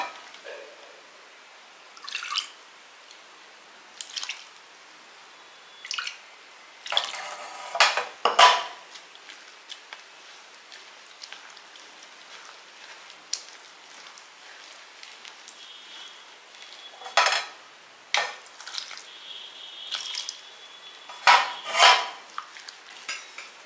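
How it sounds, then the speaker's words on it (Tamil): A utensil scrapes and clinks against a bowl of ragi batter in scattered bursts while water is stirred in, with quiet gaps between the strokes. "இதில் நம்ம கொஞ்சோண்டு தண்ணி சேர்த்துக்கலாம்"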